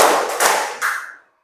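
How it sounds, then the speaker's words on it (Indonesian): A class clapping in a counted rhythm: three sharp group claps in quick, even succession, each with a short ringing tail, and then the room falls silent. No one talks. "tepuk tiga"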